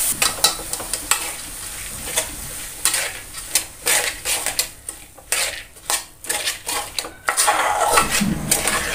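A spoon stirs matki sprouts and potato into fried onion and tomato in a pan, making repeated scraping and clattering strokes against the metal over a light sizzle, close and irregular.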